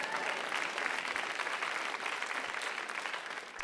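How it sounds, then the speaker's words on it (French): Steady audience applause at a French-language church gathering, a dense even wash of many hands clapping throughout, fairly loud and without talk over it. "on devait être en train d'applaudir maintenant"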